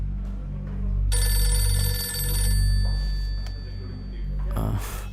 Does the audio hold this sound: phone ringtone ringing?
yes